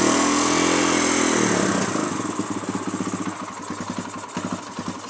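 A motorcycle engine, freshly reassembled after carburetor cleaning and run with a little choke, cranks and catches, then settles into a close, loud, uneven idle with a rapid chugging pulse.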